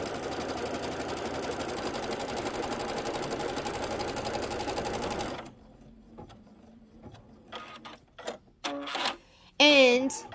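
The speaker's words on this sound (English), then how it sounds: "So this is actually 6 minutes of stitching." An embroidery machine stitches a seasonal quilted table runner in a rapid, steady mechanical whir for several seconds, then stops, followed by scattered clicks, handling noises and a brief voice.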